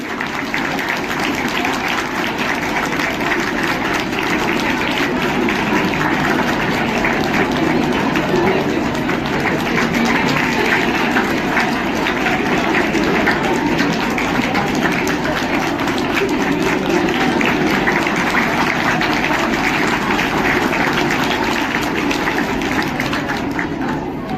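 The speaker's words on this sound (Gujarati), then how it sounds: "તમારી તાળીઓ તો એનું સન્માન વધારે જ છે" Sustained loud applause from a school audience honoring a teacher at a math and science exhibition, dense steady clapping that holds at an even level for over twenty seconds without a break.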